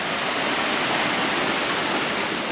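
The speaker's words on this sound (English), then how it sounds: "this is actually a koi pond." Water flows steadily in a koi pond at a Disney resort in Ko Olina, Oahu, Hawaii, giving a loud, continuous rushing wash close by with no pauses and no voices.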